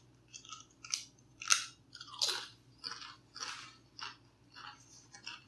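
Crunchy tortilla chips eaten with salsa and guacamole alongside carnitas tacos, with close, crisp bites and chewing crunches arriving in a steady rhythm, roughly eight crunchy bursts with no talking.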